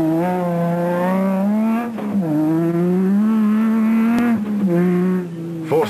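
A Toyota rally car slides sideways at speed during the 2008 Toyota 1000 rally, its engine screaming loud and close at high revs, dipping briefly twice as the throttle lifts before winding hard again.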